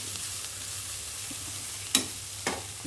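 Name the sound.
carrot and beans poriyal cooking on a stove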